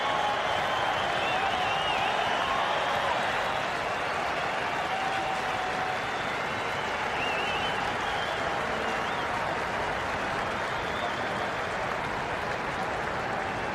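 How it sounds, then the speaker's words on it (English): A large cricket crowd at the WACA in Perth cheers and applauds Mitchell Johnson during an Ashes Test against England, a dense, sustained roar of clapping and cheering that holds at a steady level throughout. "Mitchell Johnson will get a huge cheer from the Wacker"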